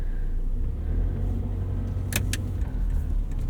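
Interior drive in a 1988 Honda Prelude Si with automatic transmission and four-wheel steering: steady low engine and road rumble with a couple of brief light clinks, no talk.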